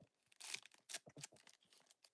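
Scissors snip open a foil trading card pack, giving a run of crisp crinkling and tearing bursts, close up and fairly quiet, with a final sharp snip at the end.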